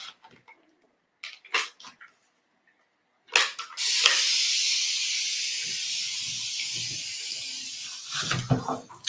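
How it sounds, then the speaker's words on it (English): A handheld spray mister sprays water in one continuous close hiss lasting about four seconds, with brief handling clicks before and after. "My mister just keeps spraying and spraying."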